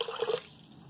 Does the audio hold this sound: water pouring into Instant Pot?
yes